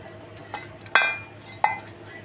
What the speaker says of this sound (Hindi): ये सेलो का अप्पे मेकर है और इसमें एक बार में 12 अप्पे बन जाते हैं